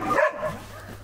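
A dog barks once or twice loudly up close inside a snowy mountain cabin near Gura Humorului, then the sound fades into a quieter whimpering tail.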